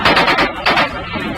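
Rapid bursts of troop gunfire in a battle against Maute fighters across a riverbank, loud and close, with sharp broadband cracks pulsing through the clip.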